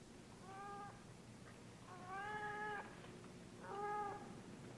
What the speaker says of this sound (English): I don't understand how Nola's cat gets into this passageway